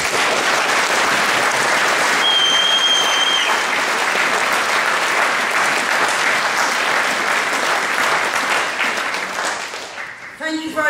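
An audience claps steadily for a speaker from Stop the War at a Don't Attack Iran meeting, a loud sustained round of applause that thins toward the end as a voice begins speaking.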